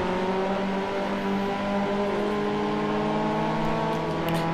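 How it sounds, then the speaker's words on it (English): Racing car engines in Forza Motorsport 4, in a SEAT Ibiza Cupra spec series, whine continuously at high revs, a dense steady drone of several motors with shifting pitch. "Sounds like I'm doing a touring car race, judging by the engine sounds."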